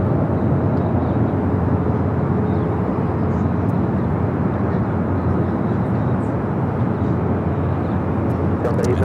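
American Airlines Boeing 787 Dreamliner from Tokyo Haneda lands on runway 24 right at Los Angeles airport, producing a continuous, even engine rumble and wind-like rush at steady loudness.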